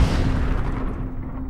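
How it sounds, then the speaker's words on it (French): A house explosion on Twilight Avenue, blamed on an old oil well, comes through as a sustained, heavy, rumbling blast that stays loud throughout and fades slightly toward the end. No voices are heard. "Une explosion."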